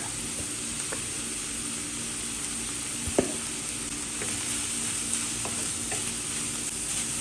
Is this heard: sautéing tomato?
yes